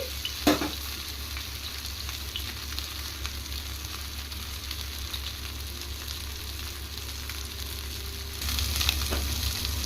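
Fish fries on a hot tawa in a beach-style Nellore preparation, giving a constant close sizzle with a low hum underneath, a couple of sharp taps, and a louder surge of frying near the end, with no voices.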